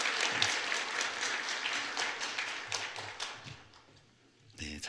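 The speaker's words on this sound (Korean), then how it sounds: "인사하실 때 한번 힘차게 박수하겠습니다." A church congregation at a Sunday service bursts into hearty clapping that fades out toward the end, followed by a brief sharp noise.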